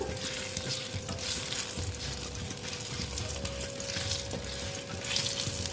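Whole cumin seeds and a bay leaf sizzle as tempering in hot oil for an okra and masoor dal dish, a loud dense crackle held steady throughout, close by and with no voices.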